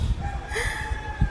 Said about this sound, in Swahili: Na jogoo leo anasikika akiwika nyie